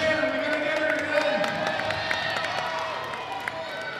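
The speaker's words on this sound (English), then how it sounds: "Let's give a hot round of applause for Shannon." An event crowd at the Mettle Games claps and cheers for Shannon, steady applause and scattered whoops under an announcer talking over it, with background music running throughout.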